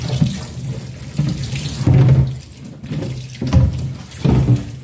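Tap water runs and splashes steadily into a refillable water container, the flow rising and sloshing in waves as its inside is rinsed out.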